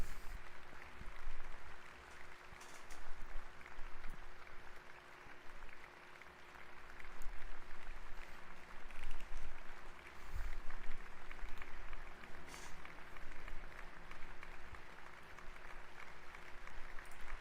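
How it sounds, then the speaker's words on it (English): An audience claps continuously with steady, dense applause at moderate distance, the clapping rising and falling slightly in intensity across the stretch without any speech. "They're all clapping for me."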